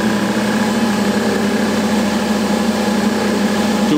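A small generator spinning on a test rig with light bulbs as its load hums and whines in a steady, unchanging drone, loud and continuous.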